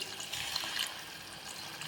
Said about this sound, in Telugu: కొన్ని వాటర్ పోసుకొని